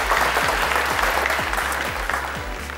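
A studio audience on the Afghan game show Ro Dar Ro (Family Feud) applauds steadily and loudly, dense clapping throughout with a repeating low electronic pulse underneath.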